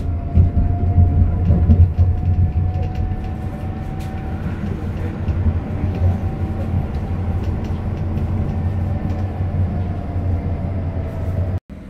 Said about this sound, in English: So I'm trying to catch a tram to go about my business